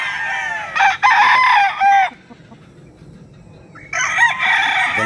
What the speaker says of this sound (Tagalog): Mga hyper ang manok.